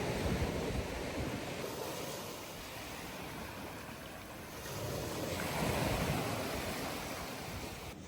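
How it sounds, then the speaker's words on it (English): Ocean waves surging and crashing against the shore of a lighthouse island, a continuous roaring wash that swells louder midway, with some wind buffeting the microphone. "you never get tired of the crashing waves."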